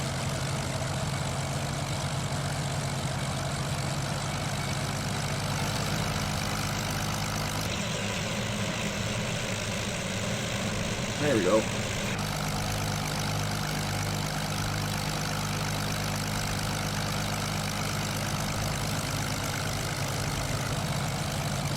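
Steady drone of a light general aviation plane's engine running in Microsoft Flight Simulator, continuous and fairly loud throughout, with a brief shift midway and a short spoken remark near the end.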